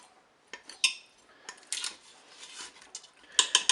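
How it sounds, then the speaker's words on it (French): Chicken thighs being turned in a cooking pot with a metal utensil, heard as a series of close, irregular metallic clinks and scrapes against the pot, with quiet gaps between. "je vais retourner à nouveau mes hautes cuisses"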